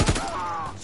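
Gunfire in the WWII shooter video game Call of Duty: World War II, a quick close volley of shots with a ringing tail, all inside under a second.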